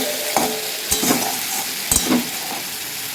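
A spice paste of onion, ginger, cumin, green chilli and dried chilli powder fries in a pan for a fish curry, with a steady sizzle and a few stirring scrapes.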